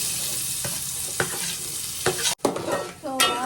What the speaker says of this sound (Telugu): ఇప్పుడు ఇందులో ఉల్లిపాయలు వేసేస్తున్నా.